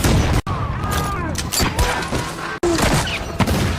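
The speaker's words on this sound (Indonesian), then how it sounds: "insiden baku tembak itu berakhir tragis bagi sang pastor, namun Ercel berhasil melarikan diri" A shootout in the action film Bluff (2026) brings loud gunshots and crashing impacts with sharp cutoffs, heard close and dense within a busy film soundtrack while a voice speaks partway through.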